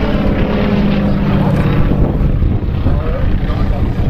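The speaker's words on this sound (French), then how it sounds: "Stéphane Canu aux commandes de ce somptueux Waco UPF-7" A loud, steady Waco UPF-7 biplane engine at an airshow drones continuously, heard up close with a rough, buzzing roar and no break.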